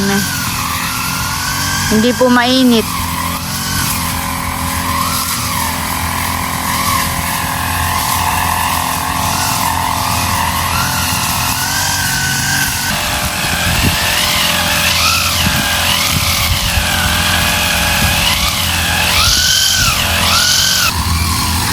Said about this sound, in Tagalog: Maganda naman po yung pagga-grass cutter ngayon ni Bossing.